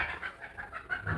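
A rooster clucks in a quick series of short, fairly close calls with a steady rhythm, heard alone without voices.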